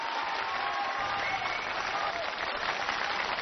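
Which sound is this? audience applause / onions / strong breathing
audience applause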